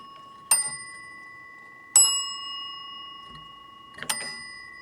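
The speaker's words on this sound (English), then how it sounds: "Got a well-made bell. It's got a nice ting to it." Bell of an old telephone with two gongs struck in three separate single tings, each a bright metallic ring that decays slowly, close and clear in a quiet room.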